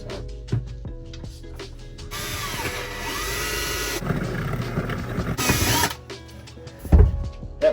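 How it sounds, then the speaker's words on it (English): A power drill bores through a ceiling near a steel cross member, whining steadily for several seconds with a brief pause and a second burst, followed by a few knocks and clunks. "I'll probably drill somewhere in this area"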